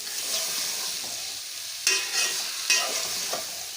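Turnips sizzle steadily as they fry in a pan for a spiced turnip bhujiya, with a few sharper bursts of crackle and scraping stirs over a constant close hiss.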